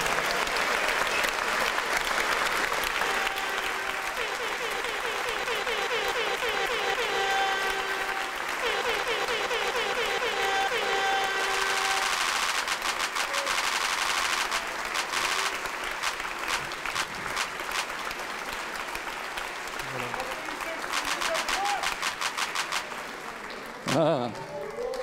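Sustained applause for the 16 finalists of a Swiss science-communication contest final, a broad crowd ovation lasting throughout with cheers and some voices mixed in, tapering near the end.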